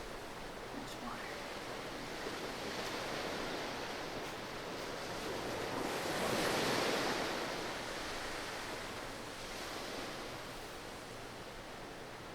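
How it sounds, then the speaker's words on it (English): Waves wash on a shore in Bravely Default 2, heard as a broad, soft, continuous surf that swells gently toward the middle, with a voice speaking over it. "There's water."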